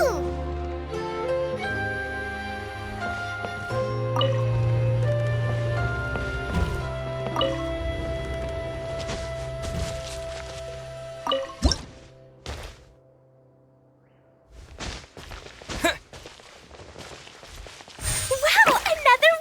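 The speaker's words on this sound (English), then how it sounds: "Wow, another water droplet just came out from the wall!" Water droplets drip out of a wall in the game Genshin Impact, a few wet plinks and squishy splats standing out after a stretch of music, the later part busier with short liquid hits.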